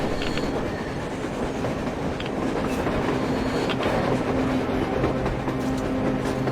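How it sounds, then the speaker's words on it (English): A train in the video game Metro Exodus rumbles past on the surface, a loud steady roll of wheels with clickety-clack beats and faint squeals. "A damn train on the surface!"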